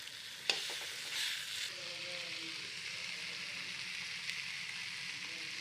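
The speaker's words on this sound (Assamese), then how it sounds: "চাউলখিনি ভাজি থাকিম অলপ সময়।" Rice fries in a wok with peas, French beans and onion, giving a soft continuous sizzle broken by a few sharp scraping stirs of the spatula near the start.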